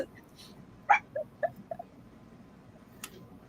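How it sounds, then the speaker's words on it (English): Small dogs give a few short, sharp yips and barks close by indoors, a quick burst of three or four followed by quiet, at moderate volume with no overlapping talk. "Mikey, if that's you who's barking."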